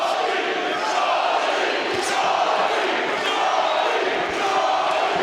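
An arena crowd at a boxing match between Sean Monaghan and Donovan George roars and cheers steadily after a punch combination, a sustained loud din of many voices with occasional shouts rising out of it.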